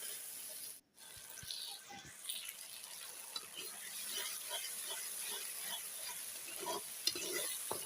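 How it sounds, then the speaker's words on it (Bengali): Spices being sautéed and stirred in a pan over a clay earthen stove, a steady close sizzle with scraping stir strokes throughout and a brief dropout near the start. "সমস্ত মশলা এর মধ্যে দিয়ে এটাকে আমি ভালোভাবে কষিয়ে নেব দেখো"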